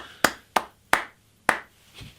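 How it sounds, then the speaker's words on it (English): Two people clap in a small, sparse round: five separate, sharp handclaps spaced unevenly over about two seconds, close and dry, with the last one softer. "2 people clapping there, Peter."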